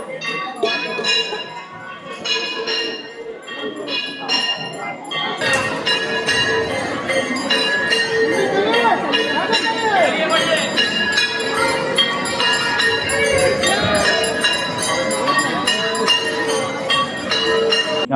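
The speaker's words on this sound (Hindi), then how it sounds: "ये दर्शन खुलने का घंटी लग चुका है।" Temple bells ringing for darshan opening at Kanak Bhawan in Ayodhya: repeated metallic clangs that swell into a loud, continuous wash of bell ringing amid crowd noise.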